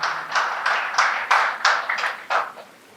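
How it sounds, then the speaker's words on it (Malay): A church congregation claps in rhythmic bursts, about seven or eight distinct sharp group claps spaced roughly evenly, fairly close and moderately loud, then fading at the end. "Mari kita beri tepukan kepada Tuhan."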